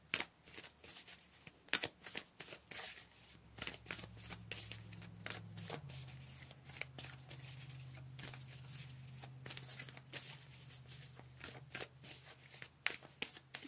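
Tarot cards being shuffled by hand, a quiet, close series of rapid riffling flutters and soft slaps repeating in bursts over a low hum.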